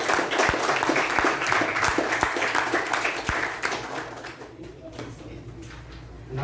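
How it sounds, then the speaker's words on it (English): An audience at a youth leadership meeting claps loudly and steadily for the evaluators. The applause thins and dies away over the last couple of seconds. "Let's give a big round of applause to all the evaluators"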